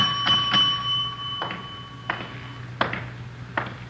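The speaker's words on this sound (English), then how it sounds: "Nobody at the desk. I'll ring the bell." Hotel front desk bell rung by hand in a police radio drama, several bright ringing dings spaced unevenly across the stretch over a low steady hum, with no talking.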